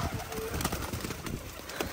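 Pigeons on a rooftop coo softly and flutter while grain is scattered for them, a brief faint scene with light shuffling and bird calls, no clear talk.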